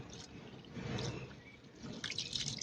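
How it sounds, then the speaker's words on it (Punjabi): Washed moong dal and rice are rubbed and rinsed in water, producing soft close sloshing, dripping and trickling sounds in uneven bursts, with no talk. "ਮਲ ਮਲ ਕੇ ਧੋ ਲਾਂਗੇ"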